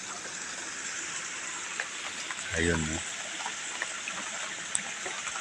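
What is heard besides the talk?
rain and runoff water flowing through a garden plot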